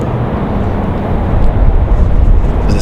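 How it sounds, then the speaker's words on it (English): A Republic Airways Embraer E175 jet arriving at Raleigh-Durham International Airport from LaGuardia makes a loud, steady broadband roar that swells slightly partway through, with no voices. "Republic Airways 4385 coming in from LaGuardia."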